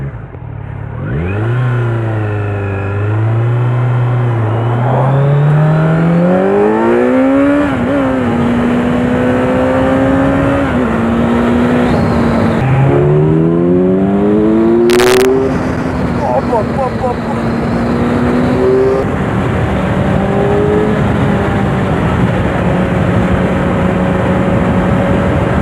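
A Kawasaki Z900 motorcycle pulls away in first gear and accelerates hard, its engine note climbing and dropping through several gear changes, loud and close with wind noise, while the rider talks.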